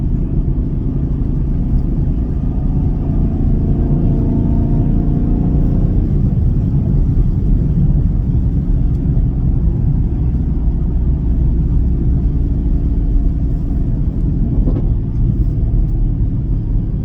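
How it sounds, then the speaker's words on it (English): A modified, lightened 2024 Chevrolet Camaro LT1 V8 rev-matches on a downshift from fourth to third at about 2,500 rpm: a loud, steady close-up engine drone with a quick blip in revs partway through. "Show you the rev match, how quick it is."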